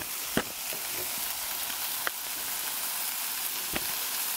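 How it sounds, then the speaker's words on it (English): Onions sizzle on a Blackstone griddle with a steady, close frying hiss, broken by a few sharp clicks and taps of a spatula against the flat-top surface. "Onions are looking good already"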